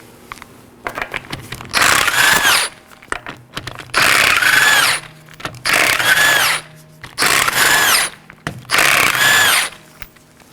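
Impact wrench removing five 19mm lug nuts from the left rear wheel of a 2018-2024 Chevrolet Equinox: five loud bursts of whirring and hammering, each about a second long, separated by short pauses with faint clinks and handling noise.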